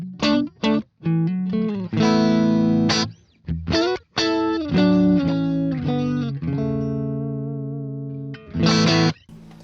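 Electric guitar played through a clean amp model on a Boss GX-100 multi-effects unit: short choppy chord stabs open into long ringing sustained chords, then a final bright burst, loud and up close with no talking.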